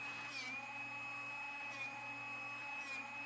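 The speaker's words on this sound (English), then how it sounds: "When sharpening, listen carefully to the sound your Drill Doctor makes." A Drill Doctor 350X drill bit sharpener running steadily, a continuous close motor whine with a grinding edge that dips slightly in pitch as the bit is worked in the sharpening port.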